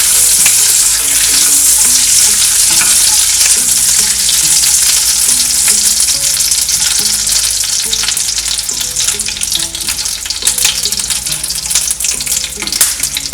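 Cinnamon sticks frying in hot oil in a pan make a loud, continuous sizzle up close, broken by soft stirring scrapes and with no speech over it.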